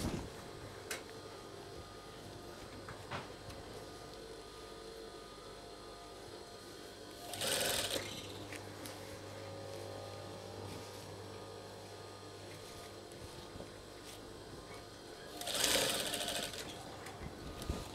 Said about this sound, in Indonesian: Kita jahit keliling sampai habis.